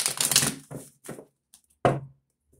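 A quick flurry of papery tarot card riffles and snaps, followed by a few shorter bursts and a final sharp slap, close and fairly loud with no voices.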